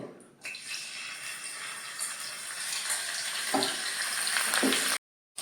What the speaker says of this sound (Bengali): মাথাটা আগে ভেজে নেব